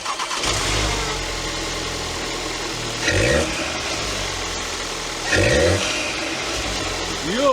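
An Audi TT engine fitted with a RamAir air filter idles close by with a steady mid-pitched hum, broken by two short revs. No one speaks.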